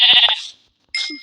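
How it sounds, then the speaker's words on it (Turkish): Two short sheep bleats in Minecraft, loud and close, come one after the other, then a brief gap before a third bleat. "İkinci koyun."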